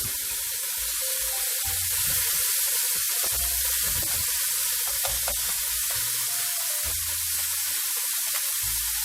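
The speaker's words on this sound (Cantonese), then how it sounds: "呢個煙肉爆香之後呢，就加返我哋嘅蘑菇落去" Bacon and mushrooms fry in a pan, giving a steady loud hiss of sizzling fat with occasional crackles and faint stirring scrapes throughout, and no voices.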